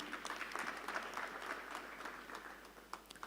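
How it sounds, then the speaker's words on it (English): Applause at a national child protection conference, a crowd clapping steadily at moderate volume for a few seconds, thinning into a few scattered claps at the end. "Let's give them a round of applause."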